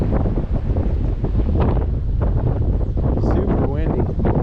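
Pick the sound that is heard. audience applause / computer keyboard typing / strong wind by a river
strong wind by a river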